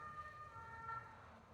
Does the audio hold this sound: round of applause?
no